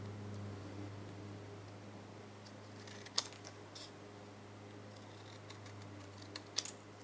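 Scissors cut through two stacked pieces of card-making paper together in a few short, sharp snips, close and quiet, over a steady low electrical hum, with no talking.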